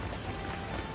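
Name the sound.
heavy rain falling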